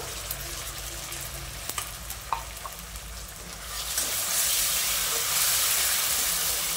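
Browned onions with a paste of green chili, garlic and ginger sauté in a pan, giving a steady sizzle that swells louder and hissier partway through, with a few sharp clinks of a spoon early on and no talking.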